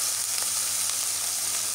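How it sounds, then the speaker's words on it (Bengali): Coriander leaves fry lightly in a pan, giving a steady close sizzle with faint crackles and no voices. "ধনিয়া পাতাটা দিয়ে হালকা করে একটু ভেজে নিয়ে নামাই নেব"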